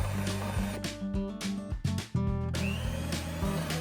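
An electric mixer beats butter with brown and white sugar for pumpkin cookie dough, producing a loud, close motor whine whose pitch wavers and dips briefly before running steadily again.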